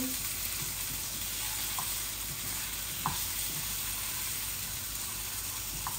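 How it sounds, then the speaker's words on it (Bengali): Potatoes frying in a little oil in a pan, a steady close sizzle and hiss throughout with a few faint clinks of stirring, no talk. "আলুগুলো একটু ভেজে নিচ্ছি।"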